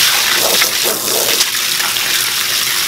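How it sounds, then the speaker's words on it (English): Water spraying from a hose into a stock tank while a pump drains it, a loud, close, continuous rushing and splashing wash that stays steady throughout with no talking. "While this is pumping out the water, I'm gonna spray and kind of rinse it so it's pumping out the dirt as I go."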